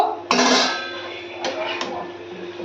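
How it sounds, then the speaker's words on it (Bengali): Food is stirred in a cooking pan, with a few clanks and scrapes of a utensil against the metal and a quiet sizzling hum between them. "এবার এই যে নাড়াচাড়া করে একটু একটু ঢেকে চেপে রান্না করতে থাকবো"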